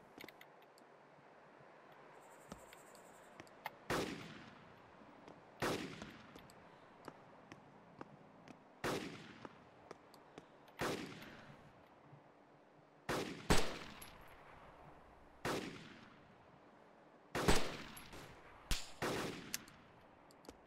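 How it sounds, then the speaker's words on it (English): Gunfire in the video game DayZ: sharp single shots ring out one at a time at irregular intervals of a few seconds, fairly distant and echoing, a couple of them close together, over a quiet background hiss. "Somebody's shooting at me already."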